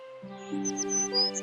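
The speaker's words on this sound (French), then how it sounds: "Au matin, Blanche-Neige fut réveillée par le chant des oiseaux." Cartoon songbirds in a fairy-tale forest at morning chirp and tweet in short, bright high calls over a sustained orchestral music bed, fairly soft and close.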